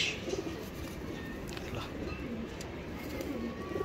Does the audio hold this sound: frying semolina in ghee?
no